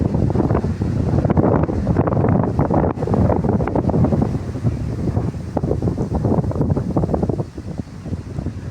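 Strong wind at a paragliding site buffets the microphone in loud, continuous gusts, roaring and rumbling throughout with no voices.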